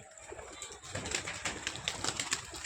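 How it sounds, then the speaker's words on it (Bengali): A pigeon coos softly at a distance while flying aerial tricks, with faint fluttering and light outdoor background noise. "কবুতরটা উঠতে লাগিছে, বাজি করছে আর উঠছে"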